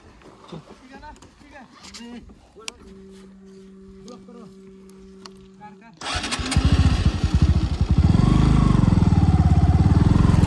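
People talk and a tone sounds, then a motorcycle engine abruptly fires up close by and keeps running with a loud, steady roar, in the West Khasi Hills, Meghalaya.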